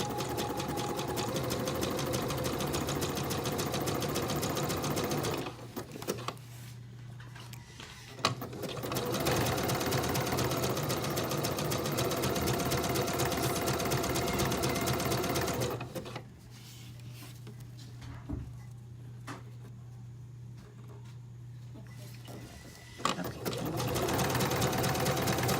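A sewing machine stitches knit binding around a fabric edge in close, steady runs of fast mechanical whirring, pausing twice briefly with small handling clicks before resuming.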